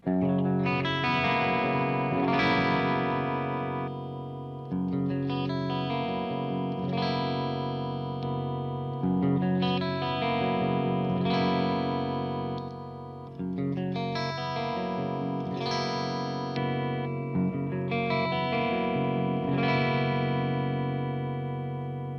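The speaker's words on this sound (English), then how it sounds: "I'll go through the different pickup selections and show you the different tones you can get out of it" PRS Core Custom 24 electric guitar played through a clean channel with effects, strummed chords and arpeggios ringing out in phrases that shift in tone as the pickup positions change, close and sustained with no talking.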